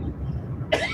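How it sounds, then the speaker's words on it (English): A single short cough bursts out near the end after a low rumble of throat noise, close and fairly loud, with no speech. "But I'm coughing again."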